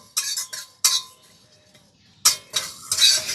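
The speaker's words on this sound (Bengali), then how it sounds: "শুকনো খোলায় দিয়ে দিচ্ছি 1 চামচ গোটা জিরে, তারই সাথে দিয়ে দেবো 1 চামচ গোটা ধনে" Whole cumin and coriander seeds rattle and scrape in a hot dry pan in a few short bursts of stirring, separated by brief quiet gaps.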